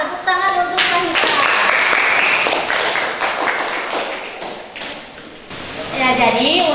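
Students clapping for a classmate in a classroom, a brisk burst of hand claps that swells, dips briefly, then rises again, with a voice speaking at the start and near the end.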